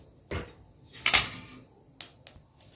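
Roasted millet grains tipped from a pan into a vessel, giving a few short rattling, scraping bursts with one louder rush of grains in the middle and sparse clinks near the end, close and moderately loud.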